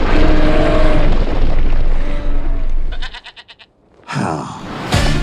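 A goat bleats in a loud, wavering cry, followed by a rapid series of short pulsed bursts and a brief silence, then more loud blaring noise.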